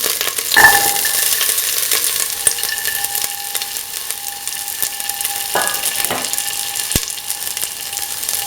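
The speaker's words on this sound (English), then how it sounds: "Now put in the garlic and the shallots." Garlic and shallots fry in a pan with a steady, bright sizzle. Utensils clink and scrape against the pan now and then, heard close with no voices.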